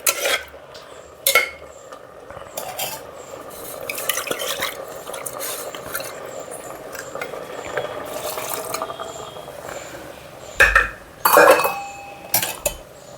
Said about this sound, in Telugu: కొంచెం బాగా కలపాలండి. పప్పు, వంకాయలు దాంట్లో కలిసిపోవాలి బాగా